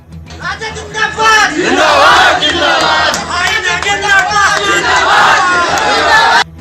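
A crowd of political supporters shouts slogans in a loud, sustained roar of massed voices that swells and rises, with overlapping yells across the whole stretch before it cuts off abruptly.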